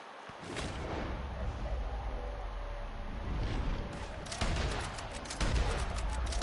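Carcano rifle gunfire in a video game, a dense run of loud shots and booming impacts layered over steady game noise, with sharp reports standing out near the end.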